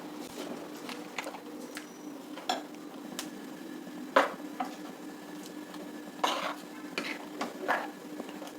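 A batter and water mixture is stirred in a pot, with soft wet swishing and scattered light clinks of a spoon against metal over a low steady hum.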